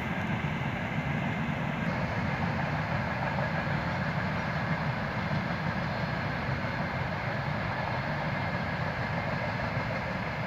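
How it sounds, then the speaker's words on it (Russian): A transit freight train rumbles past Lielvārde station in Latvia continuously, a dense, steady roar of rolling wagons and wheel noise, loud and close throughout. "транзитные грузовые поезда. Тоже тут ходят."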